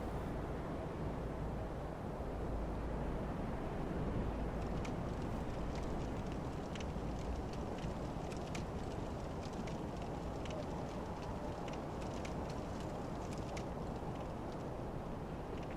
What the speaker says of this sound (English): I always like it when you climb up high enough that it gets to this windy, ambient noise.